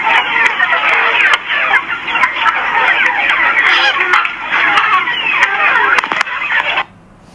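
Mixed-breed chickens on a poultry farm cluck and squawk loudly and continuously as a flock, with a dense chorus of calls filling the scene before it cuts off abruptly near the end.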